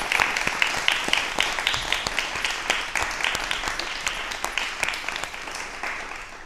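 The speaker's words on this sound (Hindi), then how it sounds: "दर्शक जोर से तालियां बजा दी जाए।" A studio audience at a Hindi television talk show for Yoga Day applauds steadily. Dense, even clapping of a moderate-sized crowd carries on throughout, with no voices over it.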